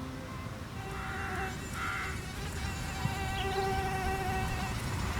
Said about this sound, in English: the now contaminated mosquito flies out of the station